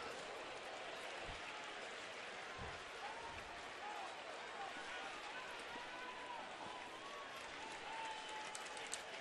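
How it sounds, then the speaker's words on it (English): A baseball stadium crowd roars steadily after a swinging strikeout, a broad sustained wall of cheering and applause at a distance with a commentator speaking over it. "Well, that brought this crowd back into it a little bit."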